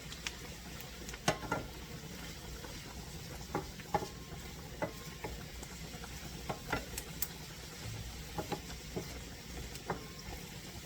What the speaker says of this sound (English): And I'm stirring it to make sure that they don't burn.